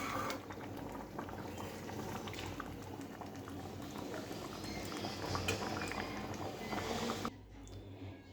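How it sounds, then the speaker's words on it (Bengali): Ghugni, a pea curry, bubbles steadily in a pot, a dense close patter of boiling liquid that carries on for several seconds before it cuts off abruptly near the end. "ঘুগনিটা প্রায় ফুটে এসছে।"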